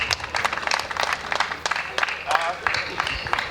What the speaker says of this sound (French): Applaudissez pour vous-même d'abord.